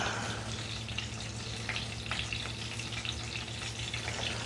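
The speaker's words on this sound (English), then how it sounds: "so we're just going to fry it in here for a little bit" Bitter melon fries in hot olive oil, giving a steady close sizzle with small crackles and pops. It runs evenly and moderately quiet, with a low hum underneath.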